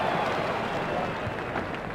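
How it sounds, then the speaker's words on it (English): A cricket crowd at an India versus South Africa Test match applauds a shot, a dense sustained clapping that stays loud and fairly even. "The crowd were brought to their feet by that shot."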